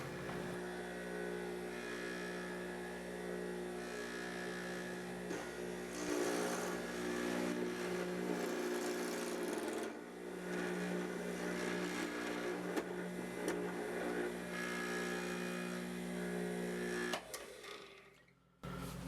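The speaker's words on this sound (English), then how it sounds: "I'm going to flip it on and then use my auxiliary switch to control the machine" A woodworking machine, used like a plunge router to cut mortises in a cedar coffee table frame, hums steadily for most of the clip with a constant tonal drone, then winds down and cuts off near the end.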